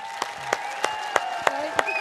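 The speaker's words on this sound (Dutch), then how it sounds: "Applaus voor deze jonge meisjes" Scattered, sharp claps land at a roughly even pace, about three a second, over a steady tonal hum, as an audience at a village event applauds a group of young girls who play tennis.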